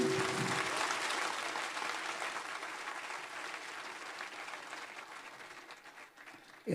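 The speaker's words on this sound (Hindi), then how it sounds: "एक बार जोरदार तालियां होना चाहिए" A large crowd at a motivational speech event breaks into loud, sustained applause, a dense even wash of clapping that slowly thins toward the end.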